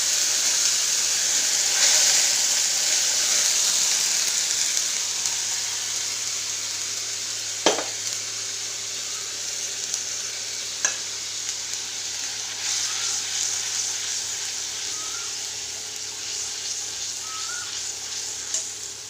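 Red chili paste ground with ginger and cumin frying in a pan, a continuous bright sizzle carrying the whole way with a couple of sharp utensil knocks from stirring partway through.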